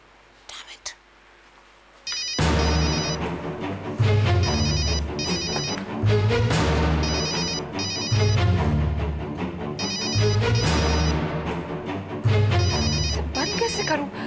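An electronic phone ringtone repeats in a loud looping melody over a low pulsing beat, starting after a faint quiet opening and continuing steadily to the end.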